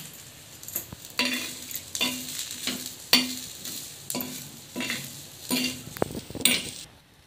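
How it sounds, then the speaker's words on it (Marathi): Country okra dry-roasting on a tawa without oil while being stirred: repeated close scraping strokes in a steady rhythm, with light clinks of the utensil and a faint sizzle between strokes. "ही भेंडी आपल्याला छान भाजून घ्यायची तव्यावरती, तेल न टाकता।"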